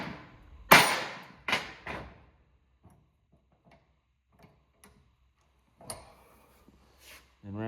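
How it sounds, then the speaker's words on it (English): Several sharp metallic smacks ring out as a hammer strikes a crimp tool on a battery cable, a hard blow followed by a couple more strikes, with quiet taps in between and more hits near the end. "you take your hammer and you smack it"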